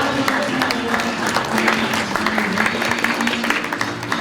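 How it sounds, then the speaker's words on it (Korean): A crowd claps warmly at a cake cutting during a Republic of China 111th anniversary celebration, a steady loud patter that mixes with background voices and a faint musical hum. "큰 박수로 축하해 주시기 바랍니다."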